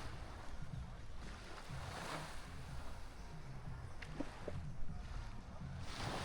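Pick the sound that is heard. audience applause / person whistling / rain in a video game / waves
waves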